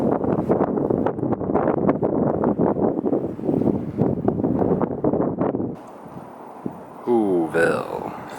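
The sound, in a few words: strong wind on Mt. Crumpit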